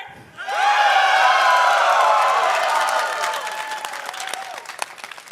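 A large crowd at a Dota 2 tournament playoff cheers and applauds loudly, a sustained roar with whoops and whistles that slowly thins into scattered clapping.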